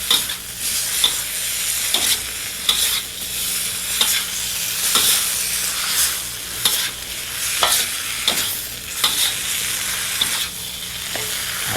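Noodles with fried tofu are stir-fried in a pan, giving a steady sizzle broken by regular scraping strokes of the spatula, close by with no talking.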